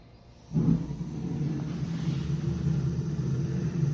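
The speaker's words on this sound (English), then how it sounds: "Well, I heard the motor kick on, so now we're gonna see if she actually circulates" A boiler circulator pump motor kicking on after the burner lights, starting abruptly with a low steady hum and rumble that continues evenly, close by, with no talking.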